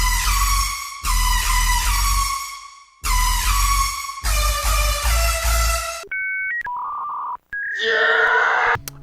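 Synth bass hits in loud, gritty, harmonically rich bursts with downward pitch drops and a heavy sub, separated by short gaps, followed by brief plain synth tones and a buzzy sustained note.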